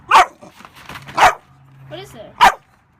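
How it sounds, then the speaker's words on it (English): Labrador puppy barking indoors, three sharp, close barks spaced about a second apart with a softer whine between them, and a person talking to the dog around them. "Why are you barking?"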